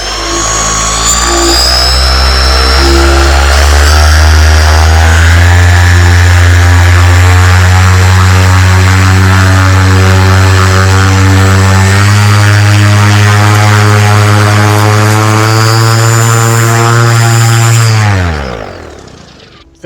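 An SP140 electric paramotor propeller runs at high thrust, a loud, close, steady droning whir with strong tonal harmonics held for most of the run before spooling down and fading at the end.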